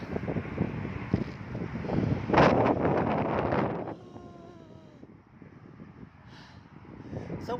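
Cool wind gusts across a microphone on a mountain at Ban Musoe Pak Thang, Chiang Mai, strong and buffeting for the first few seconds, then easing to a lighter, steady rush.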